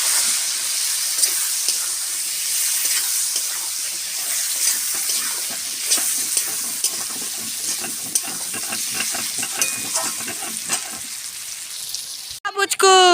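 Tomatoes sizzle and crackle in a pan of hot oil with fried potatoes, a steady close frying hiss with stirring scrapes, ending with a brief burst of other noise.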